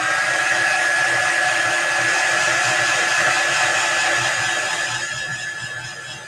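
A hair dryer blows steadily on a freshly applied chalk paste design, a loud continuous whoosh with a thin high whine, running alone with no talk and easing slightly toward the end.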